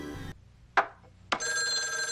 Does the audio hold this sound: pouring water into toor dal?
no